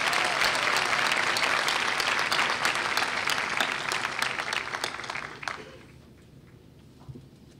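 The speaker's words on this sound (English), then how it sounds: "Let's have another round of applause for the doctoral student." Graduation ceremony crowd at Columbia Southern University applauding a newly presented doctoral graduate: dense, steady clapping from a large audience for about five seconds, then fading quickly into a quiet hall with a few scattered claps.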